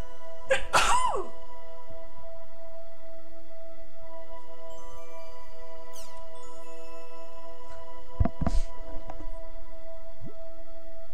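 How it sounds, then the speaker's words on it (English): Two loud, close sneezes about seven seconds apart, each a sharp burst over a steady, quiet tonal background. "I need to sneeze."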